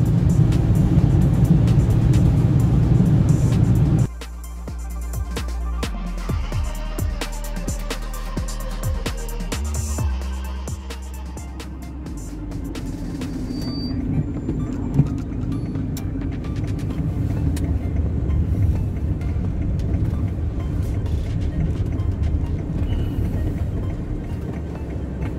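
Steady interior road noise inside an Audi 80 while driving, a broad low rumble and hum throughout with a sharp drop in level early on, then continuous even drone with faint rattles, no talking.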